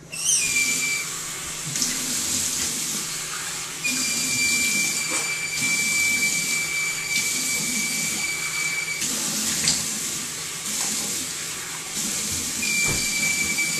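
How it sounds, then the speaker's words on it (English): Tap water running at a sink while someone rinses their face, a steady close hiss and splash broken by several brief pauses and changes in flow. "Hold on one second, I rinse my face."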